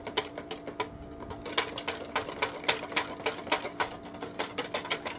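A whisk beats pumpkin puree into waffle batter in a bowl, producing quick, rhythmic scraping clicks at a steady pace, close and moderately loud, with no talk.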